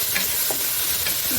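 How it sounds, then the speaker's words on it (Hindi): Cardamom pods and raisins crackle and sizzle in hot ghee for mutanjan rice, a continuous close frying hiss with light stirring and no voices. "8 अदद जो है वो इलायचियाँ खुशबू देने के लिए और इनको घी में कड़कड़ाते हैं जी"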